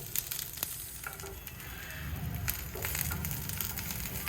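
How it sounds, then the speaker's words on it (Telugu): Green chillies frying in oil in a pan for a Telugu cucumber chutney, giving a steady soft sizzle and crackle with occasional stirring scrapes, close and continuous throughout. "ఆయిల్ వేసుకొని కొద్దిగా పచ్చిమిరపకాయల్ని దూరగా వేయించుకోవాలి"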